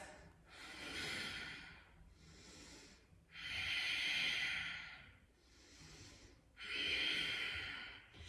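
Slow, heavy breaths during a forearm plank exercise, three long rhythmic exhales with quieter inhales between, close and clear with no talking.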